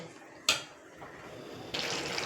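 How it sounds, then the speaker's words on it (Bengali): Coconut water being poured into a jackfruit malaikari curry in a pot, a soft splash followed by a steady, fairly quiet watery pour. "নারকেলের জলটা দিয়ে দিলাম"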